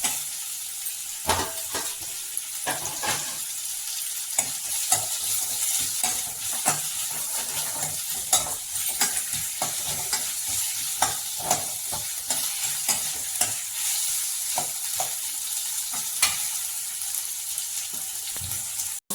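Mustard seeds and urad dal sizzle and crackle in hot oil over low heat, with a steady frying hiss and repeated sharp pops and spoon scrapes throughout.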